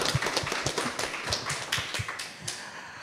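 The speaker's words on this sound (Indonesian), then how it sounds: "Boleh diberi tepuk tangan sekali lagi untuk teman-teman kita." Scattered, sparse clapping from a small group at a high school event in Palangka Raya, Indonesia, uneven and thinning out toward the end.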